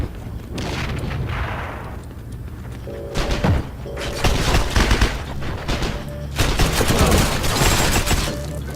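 Heavy battle noise in the shooter game Heroes & Generals: repeated grenade explosions and bursts of rapid gunfire, with thuds and booms arriving in dense clusters over a continuous rumbling combat background.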